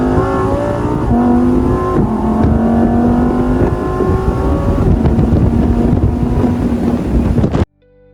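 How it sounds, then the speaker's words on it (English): Lamborghini Temerario engine roaring loudly, a sustained rev whose pitch rises and holds, with wind rushing over the microphone, then cut off abruptly just before the end. "Let's fire up the engine and hear that roar again."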